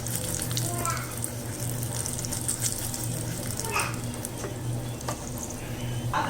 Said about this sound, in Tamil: இப்போ இந்த சாம்பார் நல்லா கொதிச்சுட்டு இருக்கு பாருங்கள்.